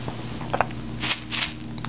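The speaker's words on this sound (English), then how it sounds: "I do have these two shaker tools." A handheld shaker tool gives a few soft, brief rattles close to the ear during a quiet ASMR cranial nerve exam, with two faint bursts of gritty shaking.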